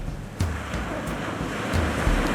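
Broadband surf roar of ocean waves breaking on the shore at Port Orford, Oregon, steady and washing, with wind buffeting the microphone in low thumps.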